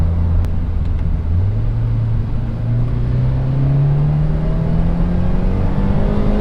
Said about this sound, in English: You can hear the supercharged whining.